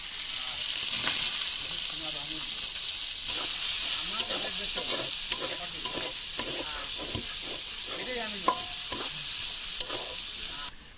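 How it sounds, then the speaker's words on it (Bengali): Onion and garlic fry in oil left over from frying fish in a village kitchen, making a loud steady hiss. Stirring scrapes and light clatters sound over it, and a voice speaks briefly. "এই তেলের ভিতরে এবার পেঁয়াজ রসুন গুলো ভেজে নেওয়া হবে।"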